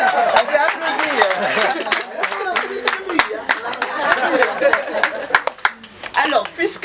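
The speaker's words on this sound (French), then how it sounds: "On peut applaudir." Guests applaud at a civil wedding ceremony in a town hall in Saint-Quentin. Dense, close clapping goes on throughout, mixed with chatter and voices, and it thins out toward the end.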